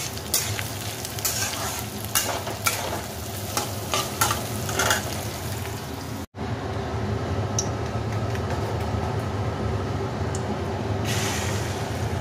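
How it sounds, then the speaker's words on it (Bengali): Egg and onion omelette frying in a pan, a steady close sizzle with scraping and stirring clatter, briefly cut off midway and then continuing as a softer even crackle. "এটা ডিমগুলো দেবো, দিয়ে একদম অমলেট যেরকম করে ওরকম অমলেট করবো"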